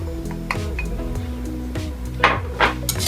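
Flour, salt and cocoa powder are stirred in a bowl, with a utensil knocking and clinking against the sides in an irregular series of taps, two sharper scrapes near the end.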